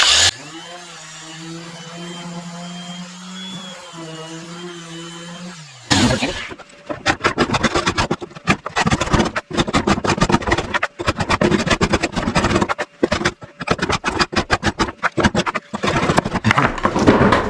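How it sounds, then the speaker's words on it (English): A wooden piece for a homemade LEGO table is sanded with a power sander, loud rough buzzing in rapid bursts that starts abruptly after a few seconds of someone talking. "If I sand this area down a little bit, it'll sit a little better in there."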